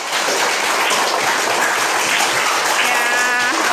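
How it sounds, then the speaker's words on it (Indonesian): Students in a school classroom clap together, a loud, dense, continuous wash of applause throughout, with a faint voice emerging near the end. "Oke, tepuk tangan untuk kita semua."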